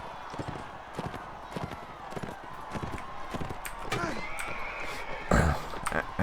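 Horse hooves clip-clopping at a run in the medieval combat game Mount and Blade Warband, steady close beats mixed with other game clatter and what may be background voices.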